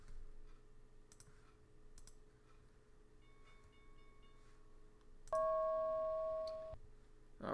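A stock market opening bell rings once as a bright, sustained electronic tone for about a second and a half. It sits over a faint room hum and soft keyboard clicks, with no speech.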